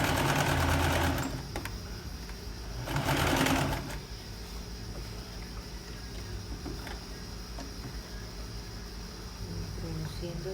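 A sewing machine stitches a seam on a shirt, a steady close mechanical whir with a louder burst near the start and another around three seconds, then a softer continuous run.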